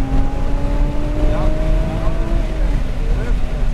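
A supercar on a race track accelerates hard, its engine note rising in steady climbing tones, loud and close, while an instructor talks over it.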